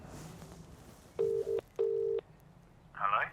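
A telephone dials out with two long, steady tones in a row, followed by a short ringing burst, all quiet and close in a calm room.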